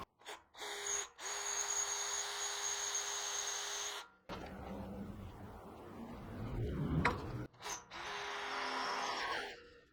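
A power drill with a Bosch bit boring into lubricated metal for a heavy metal workbench base, running in loud steady bursts separated by short pauses, with a rougher grinding stretch in the middle.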